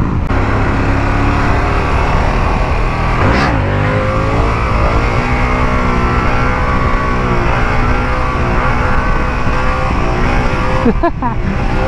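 A Harley-Davidson motorcycle cruises on the open highway with a loud, continuous engine roar and heavy wind rush, close and unbroken throughout.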